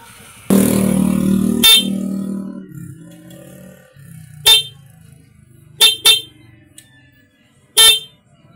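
A car horn wired through a relay and double switch honks in one long blast followed by several short, sharp beeps spaced irregularly, loud and close.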